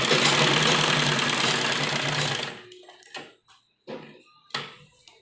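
Sewing machine running a loose basting stitch along the folded-back neckline of a printed heavy-size kurti, a steady close mechanical whir for about two and a half seconds, then short separate bursts of stitching with pauses.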